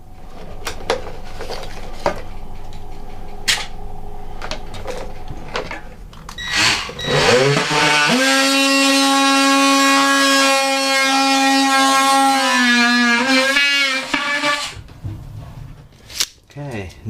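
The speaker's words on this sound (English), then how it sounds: "plunge my multi-tool through the wall" An oscillating multi-tool plunges through the wall of a catamaran hull, a steady loud buzzing whine that starts abruptly, holds for several seconds and stops, preceded by light clinks and handling noises.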